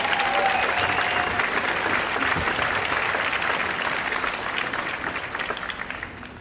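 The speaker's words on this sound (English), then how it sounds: "Give her a huge round of applause." A crowd at a Philadelphia mayoral inauguration applauds a senior municipal court judge, steady dense clapping from a large gathering that slowly fades toward the end.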